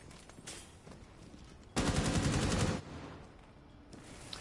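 Rapid automatic gunfire rips out in one loud, sustained burst of about a second during a competitive video game match, with quieter game ambience before and after and no talking.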